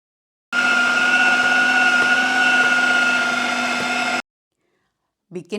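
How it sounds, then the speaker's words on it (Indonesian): An electric blender minces chicken meat for chicken meatballs, a loud steady motor whine running for several seconds and then cutting off abruptly, followed by a brief rattle of handling. "saya mulai blender dulu daging ayam saja sampai tercampur semua atau halus semuanya"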